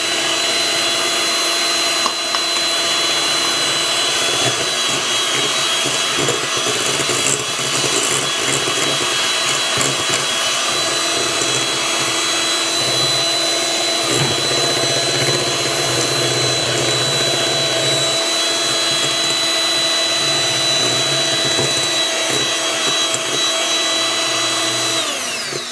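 An electric mixer beats eggs into banana bread batter, a steady, loud, continuous whir holding for the whole stretch with no talking.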